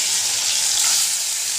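Fish frying in a hot pan with oil, a loud continuous crackling sizzle with no voices.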